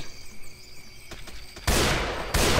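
Gunfire in the zombie shooter Left 4 Dead 2 near a plantation house, with a few light clicks and pops followed by two loud, dense bursts of sustained automatic shooting close up.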